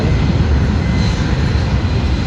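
General Electric F-138 jet engines winding up on a large military transport at Dover Air Force Base, a loud, steady low roar with broad hiss that holds without a break.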